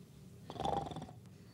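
A man imitates snoring with his voice, a single drawn-out rasping breath of about a second, fairly close and moderately loud, with a brief click after it.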